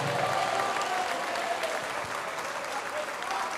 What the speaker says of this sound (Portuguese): Vamos aplaudir mais porque está chegando mais